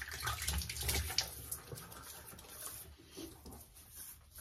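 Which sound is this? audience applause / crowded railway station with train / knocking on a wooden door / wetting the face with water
wetting the face with water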